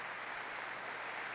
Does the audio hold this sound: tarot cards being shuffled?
no